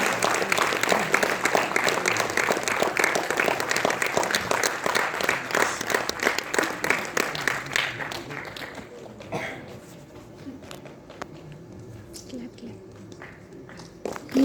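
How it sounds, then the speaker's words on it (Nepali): An audience at a program applauds to welcome a jury member, dense sustained clapping that thins and fades into scattered claps and murmur in the second half. "त्यसकारण यो ताली अझ भव्य रूपमा बज्नुपर्छ।"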